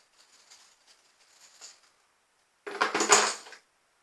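Hard fishing lures and small metal spoon lures handled and jostled together, a faint light rattling at first followed by a louder, brief burst of clinking metal and plastic.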